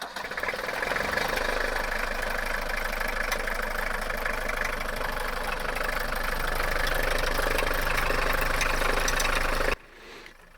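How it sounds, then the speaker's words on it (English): An engine runs steadily after its first start, a loud, constant idling drone with a knocking texture that carries on unbroken for about nine seconds, then cuts off abruptly into near silence. "And then my brother and I started the engine for the first time."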